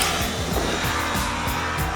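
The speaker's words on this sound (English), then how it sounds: "Once the revs start to build, there is an exciting surge all the way to the red line" A single-cylinder 250cc motorcycle engine revs hard and close, its pitch climbing and dropping in quick repeated surges with a raspy, buzzing exhaust note throughout.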